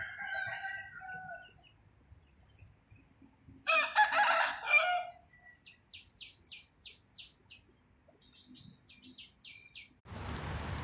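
A rooster crows loudly nearby, followed by a run of short, rhythmic clucks and calls from chickens and ducks, ending in a burst of rustling noise.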